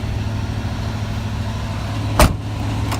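A 1985 Chevrolet C10 truck engine runs at high idle, a steady low rumble holding even throughout, with a brief sharp knock or clunk near the end.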